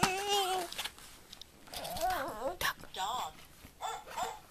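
A small child imitates a dog's bark with a few short, high, yelping cries among quiet babbling, close and fairly soft.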